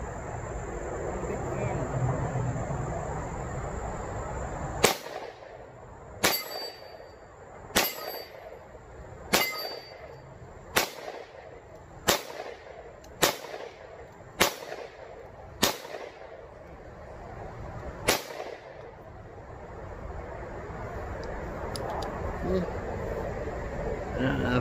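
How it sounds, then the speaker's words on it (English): Rifle shots fired with a ProMag magazine ring out nine or so times, sharp loud cracks spaced about a second or two apart over a steady outdoor background, with a voice heard before the shooting starts. "Let's load it up and shoot this thing again."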